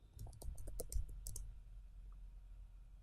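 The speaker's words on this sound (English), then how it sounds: "In your web address bar, type in test.php" Quick typing on a computer keyboard, a short cluster of crisp key clicks lasting about a second, then quiet room tone; close and faint.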